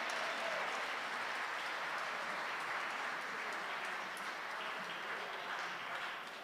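Sustained applause from a concert audience greeting the MC at a live tribute show in Duluth, a dense wash of many hands clapping steadily throughout, fairly distant and even, with no speech over it.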